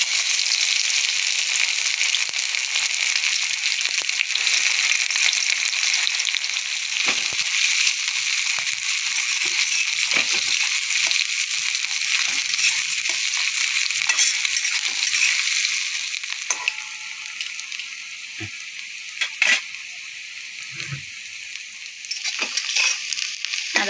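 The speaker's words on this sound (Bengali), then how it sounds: "আর দেখো পেঁয়াজটা একটু ভাজা ভাজা হয়ে গেছে" Onions crackle and sizzle in a hot pan with cumin for a chicken leg curry, a steady broadband hiss that softens midway, with occasional clicks and stirring knocks, close and fairly loud.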